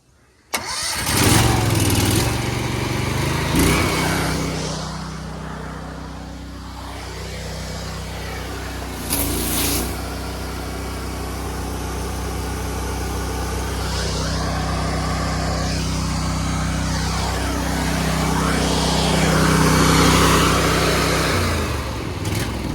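A pressure washer's engine, suspected of an unloader fault, cranks into life and then runs loud and steady close by, with no voices over it.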